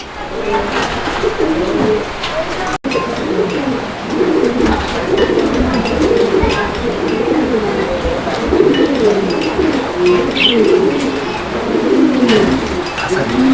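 Fancy pigeons coo repeatedly at close range, low throaty calls rolling one after another over faint background noise.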